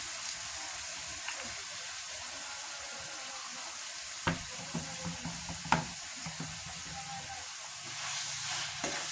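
Meat stir-frying in a pan at home gives a low, steady sizzle and hiss, broken by a few sharp scrapes and clanks of a spatula against the pan.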